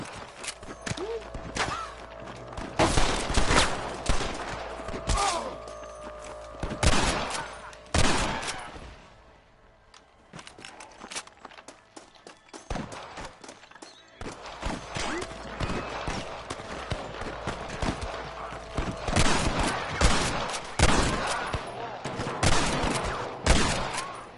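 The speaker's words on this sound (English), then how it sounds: "I can hear more gunshots." Repeated bursts of loud gunfire in the video game Red Dead Redemption Remastered, single shots and rapid volleys, with a brief lull partway through before the shooting picks up again.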